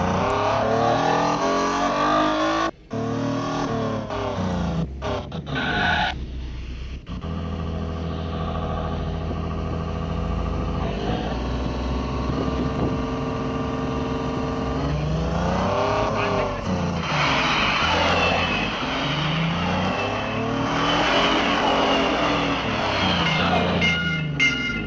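A car drives along a road under repair, its engine droning and rising and falling through gear changes as it rolls on, with a few sharp knocks and bumps and occasional voices in the cabin.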